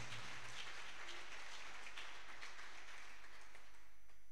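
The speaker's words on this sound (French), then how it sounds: "Applaudissez encore pour qu'il vienne, pour l'encourager" Faint, distant audience applause patters on evenly at a Christian fellowship program, a soft rain-like spread of clapping with no voices over it.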